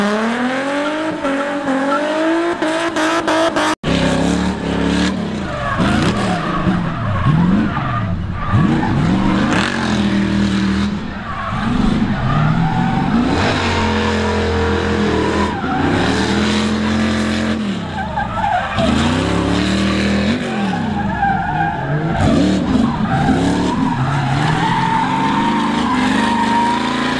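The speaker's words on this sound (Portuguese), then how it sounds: "esse é o 350Z LS3, motor de V8 Camaro" Nissan 350Z fitted with a Camaro LS3 V8 drifting on a track, a loud continuous engine roar with rising and falling revs and sustained tire skidding squeal throughout, preceded by a brief sharp bang.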